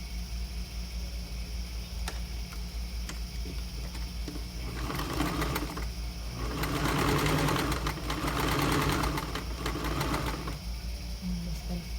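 A sewing machine runs a 1 cm seam on a raglan-sleeve blouse, its whirring stitch rising for a few seconds in the middle over a quiet room hum, with brief speech nearby.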